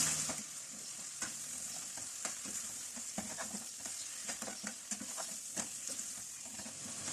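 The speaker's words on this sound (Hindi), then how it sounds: "लहसुन अदरक के साथ मज़ीद इसको भूनेंगे।" Chicken sizzling and frying in a karahi with garlic and ginger paste, a steady close hissing fry with frequent stirring clicks and scrapes and no talk.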